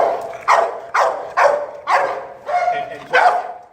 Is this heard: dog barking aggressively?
yes